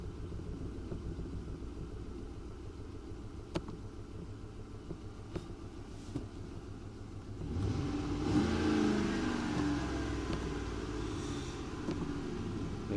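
A Ford F-150 5.4L V8 engine with a cylinder misfire idles with a low rumble and faint clicks, then revs up and roars louder about halfway through before settling into a steady running growl.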